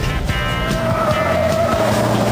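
The General Lee, a big lolloping car, brakes hard on a fast lap, giving a dense rumbling roar with a rising tire or brake whine through the middle, loud and close, with no talking.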